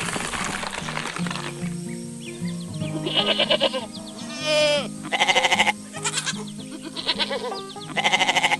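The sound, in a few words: white goat bleating in farm animation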